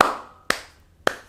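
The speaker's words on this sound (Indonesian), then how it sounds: "Tepuk tangan kita." Three sharp hand claps, evenly spaced about half a second apart, close and crisp, with quiet gaps between them and no talking.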